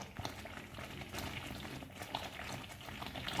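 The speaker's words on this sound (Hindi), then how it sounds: "बबल में आने शुरू हो गए, इसका मतलब जैम हमारी तैयार है" Homemade apple jam bubbling gently in a pot, soft close popping and blipping in a quiet irregular patter.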